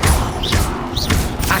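Incendio fire spell cast in Hogwarts Legacy, a burst of whooshing flame with repeated thumps and crackling impacts, loud and close over game sound.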